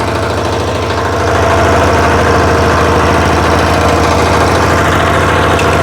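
A Ukrainian-made Zaporizhzhia Kozak walk-behind tractor engine runs steadily up close, a loud continuous throbbing drone that grows slightly louder after the first second and holds without pause, with no voices.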